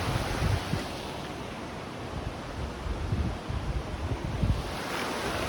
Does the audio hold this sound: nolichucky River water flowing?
yes